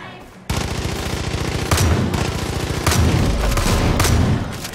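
Sustained rapid gunfire in Far Cry 5 erupts after a brief pause and rattles on continuously, loud and close, with heavier bursts booming in at intervals.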